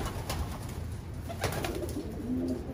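Soft pigeon coos murmur over a busy background hum at a bird auction in Taiwan, with faint rustling and shuffling nearby.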